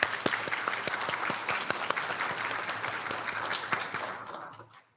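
A district spelling bee audience gives a round of applause for the two finalists: steady, crisp hand claps from a modest crowd that fade out over the final second.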